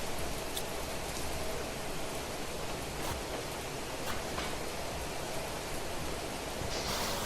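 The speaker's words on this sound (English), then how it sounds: "Oh wow, it's proper raining right now." Steady rain in the video game Planet Crafter, a dense, even hiss of falling water that fills the whole stretch without pause and has no talk over it.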